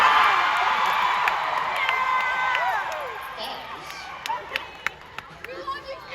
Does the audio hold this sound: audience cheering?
yes